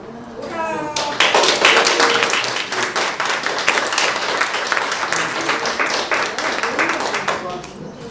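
Audience at a book presentation breaks into loud, sustained applause, dense clapping that swells quickly and carries on steadily, with a voice briefly audible at the start.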